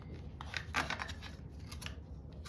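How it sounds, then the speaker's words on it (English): Scissors snipping through paper while crafting labels, a series of crisp close cuts in irregular rhythm over a low background rumble. "I'm going to use scissors for the rest of the way because they are far more controlled"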